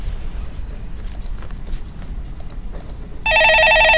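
A telephone rings in a Korean radio stock-market call-in studio, its electronic bell tone starting suddenly near the end and continuing loudly over a low background rumble.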